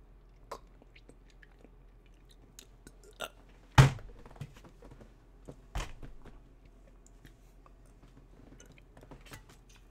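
Close, wet chewing on a Bean Boozled jelly bean, soft intermittent mouth clicks and squishes with a couple of louder smacking bursts, no talking.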